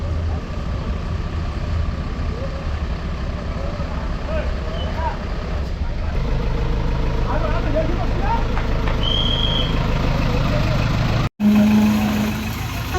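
On a village hairpin curve, a Tata 18-tyre truck engine labours to pull a trailer, a continuous low diesel drone with shifting strain and faint voices in the background, ending with a sudden cut.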